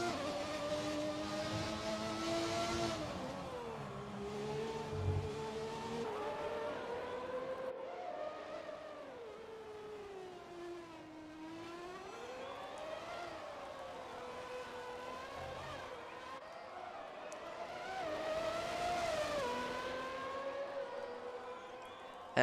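A Ferrari Formula 1 car from an F1 video game races around historic Monaco, its high engine whine climbing and dropping continuously through gear changes and corners at steady loudness.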